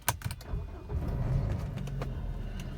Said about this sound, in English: Let's quickly start the car up right now.